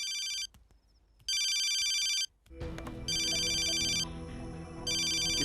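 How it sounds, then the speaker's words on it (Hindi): A telephone ringtone sounds in loud electronic bursts, pausing briefly between rings, then continuing over busier background noise. "किसका फोन है प्रिया?"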